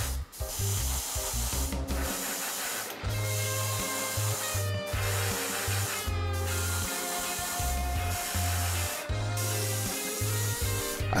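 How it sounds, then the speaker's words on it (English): An airbrush or spray can hisses steadily as paint goes onto a model kit skull and scaled tail, a close, continuous spray broken by brief clicks and handling noises, with no voices. "I sprayed the most prominent parts of the skull too"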